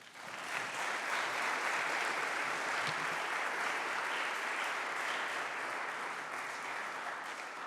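A Wabash College chapel audience welcomes a speaker with steady, full applause, many hands clapping together at an even level that eases only slightly toward the end, with no voices over it.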